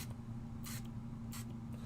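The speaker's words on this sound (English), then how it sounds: "This one is a little clogged, but that's okay. They won't normally spray like that." Paint squirts from a clogged spray bottle in two short, uneven hissing bursts over a steady low hum, with no one talking.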